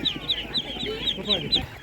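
Laying hens cluck repeatedly at a poultry market, a steady run of close, fairly loud clucks with sharp high notes recurring about every quarter second over a low background murmur.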